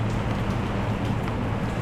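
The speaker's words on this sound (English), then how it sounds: "A rainy day." Rain falling on a short street in Macau, a dense, even hiss of drops on hard surfaces that stays loud and steady throughout, with no voices.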